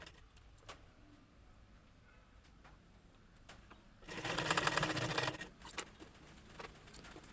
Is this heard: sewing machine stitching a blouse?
yes